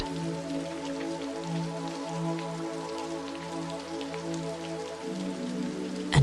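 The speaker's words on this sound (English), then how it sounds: "this gentle tapping rain" Gentle rain taps steadily on window glass in a sheltered room, a soft continuous patter over a low steady hum, with no voices.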